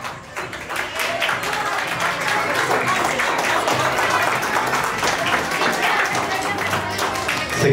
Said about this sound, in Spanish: Y las palmas para Jeremy.